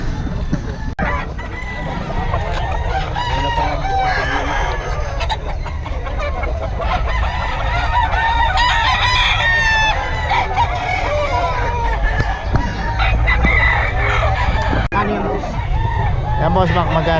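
Several roosters crow and chickens cluck nearby where gamecocks are being shown for sale. The calls overlap continuously, with people talking in the background.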